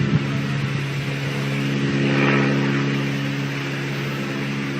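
An airplane engine heard from inside the cabin, a steady low drone with tonal hum bands that swells slightly in the middle, with no talk over it.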